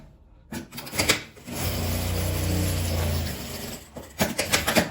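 A sewing machine stitches a small multipurpose bag: a few clicks of handling, then a steady motor whir for about two seconds that stops, followed by more close mechanical clicks.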